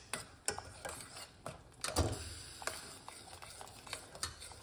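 A half teaspoon of ground cinnamon powder is stirred into a hot drink with a spoon, giving a quiet run of light clinks and ticks against the cup, with one louder knock partway through.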